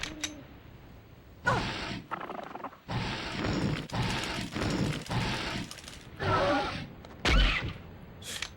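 Gunfire in the survival horror video game Dino Crisis: several loud, sharp shots in uneven bursts, spaced over several seconds, with game sound effects and rustling between them.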